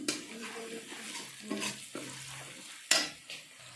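Ground turmeric, cumin and coriander being stirred and fried with marinated mutton in a pan, a soft sizzle broken by scraping stirs and a sharp utensil clink near the end, quiet and close.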